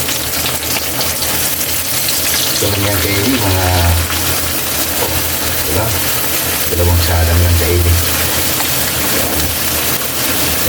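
Chicken wings frying in hot cooking oil, giving a steady, loud, broadband sizzle and gush throughout, with voices talking over it at times.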